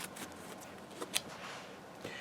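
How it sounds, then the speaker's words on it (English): A deck of game cards is shuffled during a Spiral Empires board game demo, a quiet run of soft riffling flutters and brief crisp snaps close to the microphone. "What it means by discard is you put this on the bottom and then you shuffle this."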